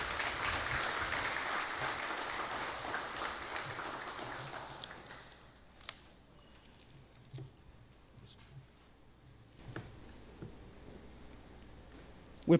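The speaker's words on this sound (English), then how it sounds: "Let's give him a round of applause" Applause for the valedictorian of the class of 2021 at a technical high school commencement: a dense, steady crowd clapping for about five seconds, then fading to a quiet hall with scattered faint knocks.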